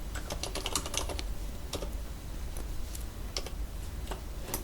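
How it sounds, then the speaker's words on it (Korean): Rapid typing on a computer keyboard while entering a layer name in Photoshop CC 2021, a quick run of close, crisp key clicks with a few pauses between bursts. "배경색이라고 입력합니다"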